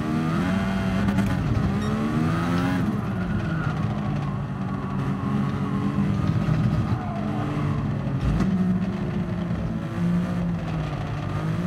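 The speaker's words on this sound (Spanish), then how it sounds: "¿Cómo suena este coche a hojalata, tío?" Race car engine from Gran Turismo Sport during an F1500T-A endurance event at Sardegna, a steady loud high-revving drone with rising and falling pitch as gears shift, continuous throughout.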